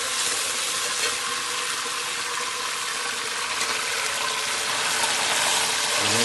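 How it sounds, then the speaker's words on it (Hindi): Water poured into hot oil with roasted cardamom for sweet rice, a steady loud sizzling gush that holds evenly from start to finish with no talk. "अब इसमें पानी डाल देते हैं।"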